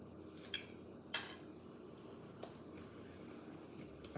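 Cutlery scrapes and clinks against a plate as reheated, overcooked steak is eaten, with a few sharp metallic taps spread over quiet room tone.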